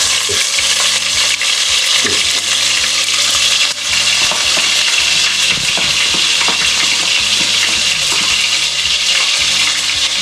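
Homemade ginger garlic paste fries loudly in hot oil for Hakka noodles, a dense continuous sizzle close up, with rhythmic scraping and clinks of a spatula stirring it around the pan.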